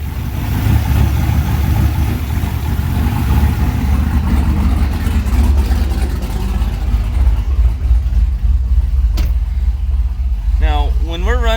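A GMC vehicle's engine runs steadily on a dyno, a loud, close, continuous rumble, with a voice heard briefly near the end.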